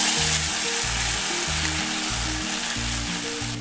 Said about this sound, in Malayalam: അതിലേക്ക് അരച്ചു വച്ചിരിക്കുന്ന ചക്ക ചേർക്കാം.